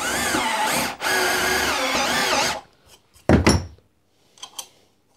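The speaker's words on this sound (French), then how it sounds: "je vais fraiser ici mon trou" A power drill countersinks a hole for a countersunk threaded insert, running loud and steady for about two and a half seconds, winding down, then followed by a few brief scrapes and clicks of handling.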